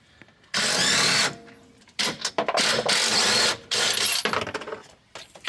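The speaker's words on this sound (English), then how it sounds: "there's 2 19mm bolts on the back side of the seat. And we're just going to rip them off" A power tool, likely an impact driver, removes 19mm seat bolts from a Can-Am X3 Maverick, loud close bursts of whirring and rattling separated by short pauses.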